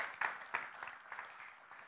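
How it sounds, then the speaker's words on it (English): A small crowd at a church gathering applauds, a soft, steady patter of clapping that thins out toward the end. "Let's give Brad a round of applause."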